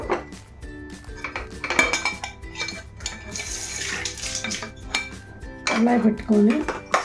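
A kadai being set on the stove and handled: close metallic clanks and scraping knocks among cookware, with a rushing, water-like wash in the middle and a louder clatter near the end, no talking.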